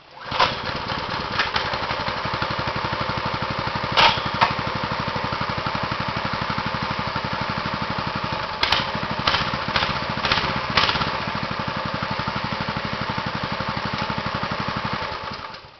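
A Baja mini bike's small single-cylinder engine, choke on, rattles steadily in a fast, even putter close by, with a few louder bursts and clunks as it runs.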